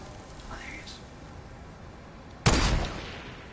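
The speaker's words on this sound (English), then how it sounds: "someone's shooting at me from up high. There's still gunfire." A single loud gunshot from the video game Fortnite cracks sharply over a steady hiss of game ambience, trailing off in a short echo; a faint rising tone sounds earlier.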